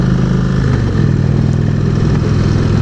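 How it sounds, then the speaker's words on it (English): An Indian Springfield motorcycle rumbles close by at slow speed, its engine held in a low, throbbing idle-like growl with slight throttle variation over a few seconds. "You do have to blip the throttle a little bit more for that slow speed."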